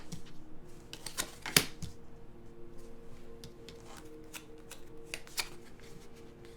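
Tarot cards being shuffled and handled at close range, soft papery riffles and taps with a few crisp snaps, quiet and intermittent.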